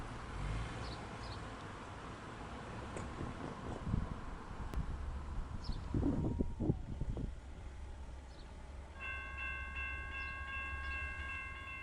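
A Norfolk Southern Dash 9 locomotive rolls across a Main Street crossing with a steady low rumble of wheels on rails, a brief louder burst midway, and a sustained horn-like tone near the end.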